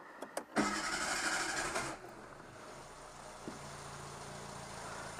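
A Renault 11 GTL's starter motor cranks the engine briefly and it catches, then settles into a quiet, steady idle after about two seconds.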